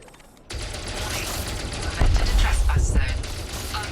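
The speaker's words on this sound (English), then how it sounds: "I'm more worried about these defense turrets." Defense turrets firing in a sci-fi video game: a sudden dense burst of rapid mechanical gunfire that continues steadily and grows louder midway, with no pause throughout.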